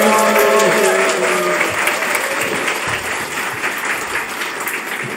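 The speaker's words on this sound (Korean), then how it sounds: "큰 박수로 환영하겠습니다." A church congregation applauds loudly and steadily in welcome as an elder pastor comes forward at a Sunday service, dense clapping filling the room and slowly easing over several seconds.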